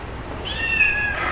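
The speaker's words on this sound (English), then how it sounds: "We have us a little black with white sable type domestic medium hair kitten." A small black-and-white domestic medium hair kitten gives a single short, high meow over quiet background noise, fairly close and alone.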